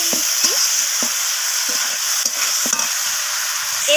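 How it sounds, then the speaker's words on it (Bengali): Green chilies sauté in oil for a rohu fish curry with cauliflower, beans and potato, giving a loud, continuous close sizzle as a spatula scrapes and stirs at irregular intervals, with no voice. "তো কাঁচা লঙ্কাটা দেওয়ার পর আমি আবারও কষিয়ে নিচ্ছি।"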